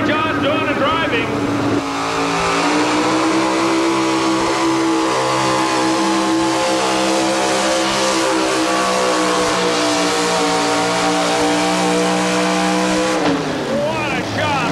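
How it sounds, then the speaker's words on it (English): Chevrolet pulling truck from Louisville, Kentucky at a 1987 truck and tractor pull in Huntsville, its engine roaring loud and steady down the track for about eleven seconds before cutting off, with an announcer talking over it. "Brian, also in a Chevrolet from Louisville, Kentucky"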